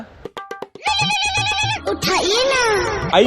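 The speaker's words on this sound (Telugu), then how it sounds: "ఫోన్ చేస్తున్నాడు" A phone ringtone plays loudly: a melody of repeated electronic tones that shifts into warbling, sweeping notes.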